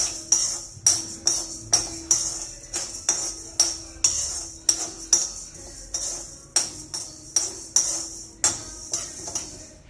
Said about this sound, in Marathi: खोबरं पण भाजून घेऊया